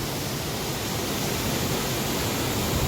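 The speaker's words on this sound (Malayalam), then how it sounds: "ചപ്പാത്തിനും ഏലപ്പാറയ്ക്കും ഇടയ്ക്കുള്ളൊരു വെള്ളച്ചാട്ടമാണ് കേട്ടോ കാണുന്നത്" A waterfall between Chappathu and Elappara in heavy rain sends up a loud, unbroken roar of rushing water, a steady broadband wash with no voices.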